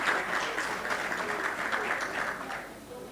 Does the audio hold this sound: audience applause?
yes